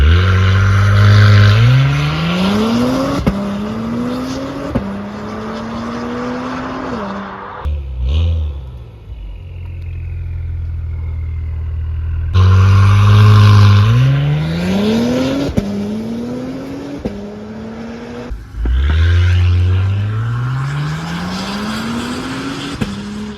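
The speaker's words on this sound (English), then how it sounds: "So we hit it with a secondary downpipe, and this is what it was sounding like then." Acura TLX Type S exhaust with a secondary downpipe, loud and close, revving in repeated rising sweeps with sharp cut-offs between pulls and a short quiet pause midway.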